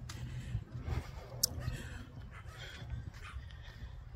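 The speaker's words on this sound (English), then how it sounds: "We have little dogs coming after us." Tiny dogs yip and whimper outdoors on a hot day, with short high barks and whines coming faintly from a distance over a low background rumble.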